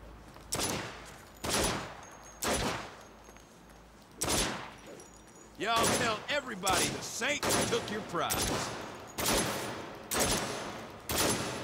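Gunfire echoing down a corridor in the Saints Row video game on PC, with about eight loud, spaced single shots, each ringing with reverb. Someone speaks over the shots in the middle stretch.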